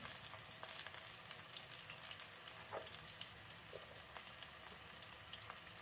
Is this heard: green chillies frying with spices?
yes